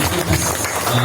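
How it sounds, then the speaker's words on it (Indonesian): Audience applause at a school seminar in a hall, a steady wash of clapping lasting about a second with faint voices mixed in. "tepuk tangan yang meriah buat Pak Omar"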